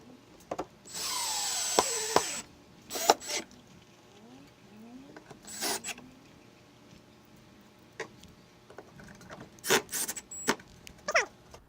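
A cordless power drill drives screws through a fishing rod holder into a wall stud in short bursts of whirring, with ratcheting clicks and handling knocks between them; close and fairly loud, no talking.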